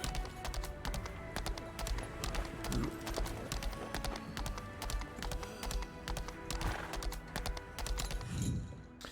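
Horse hooves clip-clopping in a steady galloping rhythm while riding in Lost Ark, quiet and continuous with faint background sounds.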